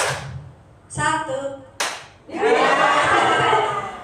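A group of teachers in a training session claps together in a clapping game, with sharp unison claps separated by pauses and then a longer burst of clapping, while a voice speaks between the claps.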